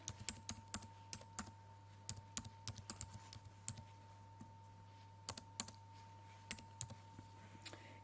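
Sparse typing on a computer keyboard while filling cells in an Excel spreadsheet, scattered crisp key clicks in small clusters with pauses, close and quiet over a faint steady electrical hum.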